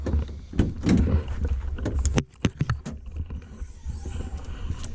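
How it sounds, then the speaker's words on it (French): Bonnet of a Mercedes C32 AMG being opened up close: a soft latch click, a few sharp metallic clunks and creaks as the hood lifts, with faint movement noise around them. "Alors je vais ouvrir le capot."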